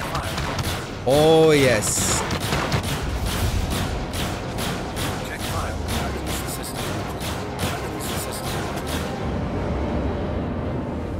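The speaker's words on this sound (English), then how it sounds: "And he's firing back." Ship weapons firing in the Star Citizen space combat game, rapid repeated bursts of thuds and cracks throughout, with someone talking over the gunfire.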